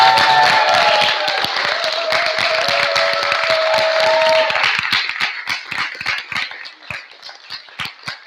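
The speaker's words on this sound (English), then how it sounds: "one more applause for the OC" Conference audience applauding, loud dense clapping with a few voices at first, then thinning out into scattered individual claps that fade away.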